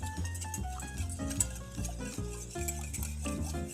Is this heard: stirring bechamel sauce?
yes